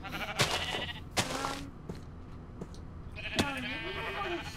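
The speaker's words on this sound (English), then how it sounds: "So, there are pink and yellow sheep." Sheep bleat in the video game Minecraft, with pink, yellow and brown sheep around. Several short, wavering bleats come at moderate volume over a soft background.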